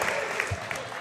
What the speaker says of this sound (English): applause from the Demon faithful